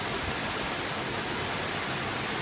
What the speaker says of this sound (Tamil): நான் ஃபால்ஸ் கிட்ட தான் இப்போ நிற்கிறேன்.